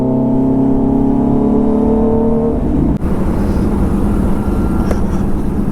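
A Kawasaki Z900 superbike engine drones loudly and steadily close by, with a rising engine tone that cuts into rougher, rumbling motor noise as the bike rides off.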